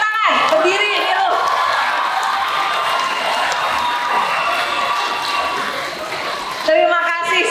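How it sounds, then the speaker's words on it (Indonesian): A university ceremony audience in Bali applauds and cheers for Nilu Jelantik, a loud, dense, sustained clapping from a large crowd that fades briefly before a voice cuts in at the end. "Tepuk tangan untuk Nilu Jelantik, tepuk tangan, berdiri Nilu."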